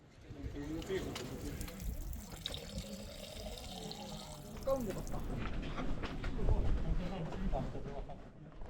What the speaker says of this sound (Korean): 시원하게 흐르는 식수를 받고 출발합니다